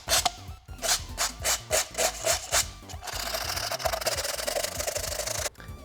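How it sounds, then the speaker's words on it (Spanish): Sandpaper rubbing the cut edges of a plastic bottle, first in about ten short rhythmic strokes, then in a continuous rasping scrub, close and fairly quiet. "vamos a lijar para que no queden tan ásperos"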